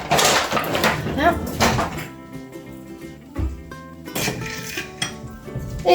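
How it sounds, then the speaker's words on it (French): A spatula clanks and scrapes in a bowl while cocoa, sweet potato and egg are mixed into a sugar-free, flourless brownie batter. Busy clinking comes in bursts, with quieter stretches between them. "je viens mélanger mon cacao dans ma patate douce avec mon œuf"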